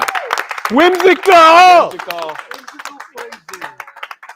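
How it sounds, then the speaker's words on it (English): A crowd at a SOLIDWORKS user group meeting claps and cheers, with a loud whooping voice rising over the scattered applause, which thins into a few trailing claps. "So one more round of applause for everybody."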